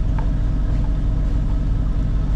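A sailboat's motor rumbles steadily at close range, a low continuous drone with no voices.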